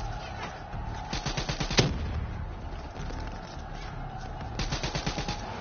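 Rapid automatic gunfire in the Black Ops 3 campaign: bursts of fast machine-gun shots, a loud single blast near the middle, with a combat voice briefly heard among the shooting.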